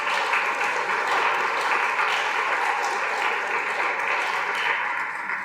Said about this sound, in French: je pense qu'on peut applaudir toutes ces personnes.